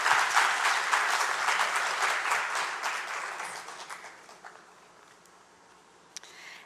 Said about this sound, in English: Let's give Sanjana another round of applause for sharing her incredible gift with us today